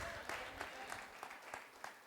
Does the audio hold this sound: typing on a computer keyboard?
no